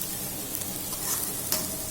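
Grated coconut stirred into sautéed onions in a hot pan, a steady close sizzle with scraping spoon strokes and a couple of sharper clatters, no voices.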